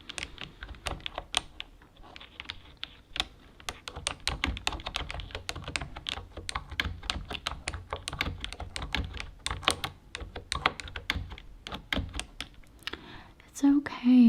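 Rapid, uneven keystrokes clatter on an orange computer keyboard, close and crisp, running steadily with brief pauses, with no talking over them.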